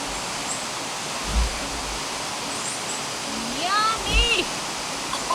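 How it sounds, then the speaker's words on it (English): Steady broadband rush of a waterfall in the Panama highlands near Boquete, heard from a short distance as continuous even noise with a few faint bird calls over it. "first little glimpse of the waterfall in there."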